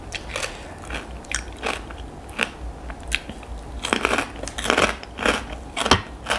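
Freshly fried crispy pork rinds are bitten and chewed close up. The repeated sharp crunches and crackles fall in an uneven rhythm.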